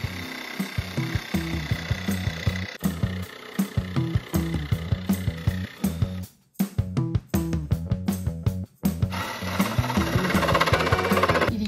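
A power saw cuts an opening through a camper van's wall lined with Armaflex insulation, running loud and close in sustained bursts with brief pauses, the blade stuttering and changing pitch as it bites through the panel.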